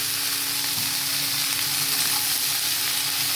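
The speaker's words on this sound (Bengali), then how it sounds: "গরম হয়ে যাচ্ছে তেলটা আলু আর বাঁধাকপি আমি একসাথে দিয়ে দিলাম" Potato and cabbage frying together in hot oil with a bay leaf: a dense, constant close sizzle that stays loud and even throughout, with faint stirring underneath.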